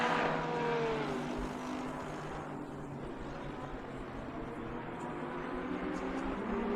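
Race car engine in Assetto Corsa Competizione, a steady droning roar that holds throughout at moderate loudness, with faint talk underneath.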